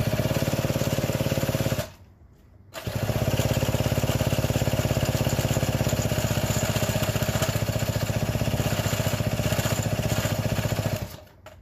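A McCulloch 3-25 chainsaw's small engine sputters and runs with a loud, buzzy drone, cuts out briefly after a couple of seconds, then catches again and keeps running.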